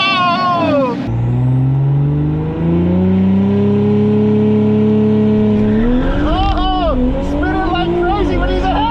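Audi B9 S4 and S5 launching down a quarter-mile drag strip, engines roaring and revving loud and close while tires spin, with excited voices shouting over the noise throughout.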